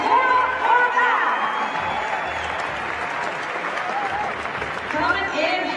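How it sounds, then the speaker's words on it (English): Audience applause at the 2018 CrossFit Games awards ceremony for Rookie of the Year Laura Horvath, a sustained crowd clapping with scattered cheers and whoops, while people talk over it. "One more big round of applause for our Rookie of the Year, Laura Horvath."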